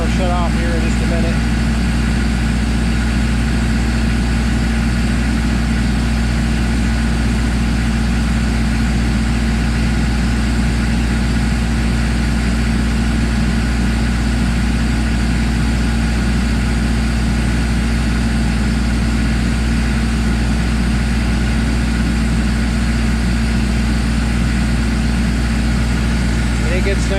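A MEP-804A diesel generator runs at a steady idle, a loud, constant low-pitched engine drone with even vibration that holds unchanged throughout, with no voices over it.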